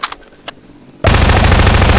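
Rapid sustained SMG fire in the video game Garry's Mod, a loud continuous automatic burst starting abruptly after a few faint clicks.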